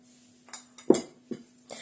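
A spoon stirring a minced meat mixture clinks and scrapes against a bowl a handful of times, uneven light taps with a faint steady hum beneath.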